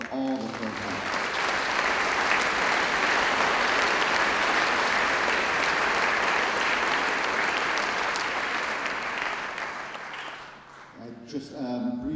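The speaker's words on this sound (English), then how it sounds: "Let's give a round of applause for all the programs." Loud, sustained audience applause at a North Carolina all-state 9-10 band concert, a dense wash of clapping lasting about ten seconds before fading out as a voice begins speaking.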